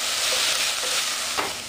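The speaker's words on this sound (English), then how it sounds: "If it doesn't sizzle, you're not sautéing, remember that." Chopped vegetables sauté in hot olive oil for a Bolognese meat sauce, giving a steady close sizzle with faint stirring scrapes and no talking.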